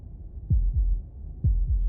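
A double-thump heartbeat in the video game Slay The Princess, two paired low pulses close and clear, steady and alone.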